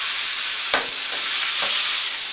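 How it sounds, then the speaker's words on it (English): Pot roast edges sear in a hot pan, giving a loud steady hiss and sizzle with two brief scraping bumps as the meat is shifted, and no speech. "Every edge you can find, you just kind of want to sear it as best as you can."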